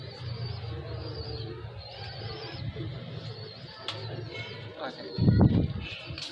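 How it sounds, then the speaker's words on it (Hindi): Low, soft coos from a Salaray Teddy pigeon repeat in the background amid light ambient noise, with a brief louder thump near the end. "अच्छा कबूतर है माशाल्लाह।"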